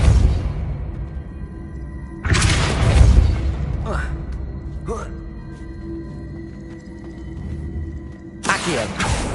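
Depulso spell cast in Hogwarts Legacy, a sudden broadband magical blast that swells and fades over a couple of seconds, followed by a few short whooshing bursts and a second blast near the end, all under low game ambience.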